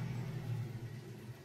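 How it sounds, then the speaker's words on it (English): A garbage truck drives past outside an open window, heard as a low, steady engine rumble that stays moderately distant and stays even throughout. "Your garbage truck just went by."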